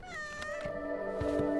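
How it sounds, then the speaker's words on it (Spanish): A cartoon cat meows, a single drawn-out, wavering cry that rises slightly in loudness and is heard close with no talk over it. "Ese pobre gato nunca ha salido de casa"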